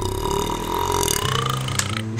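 A long, drawn-out burp rumbles loud and close for about two seconds, alone with no talking around it.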